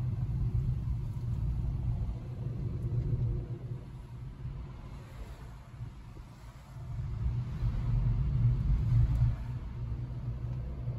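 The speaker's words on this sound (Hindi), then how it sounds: "अभी तो ट्रैफिक ज्यादा चल रहा है," Road traffic moves along a forest road through Jim Corbett National Park, a low engine rumble that rises and falls as vehicles pass at moderate distance, with no talk.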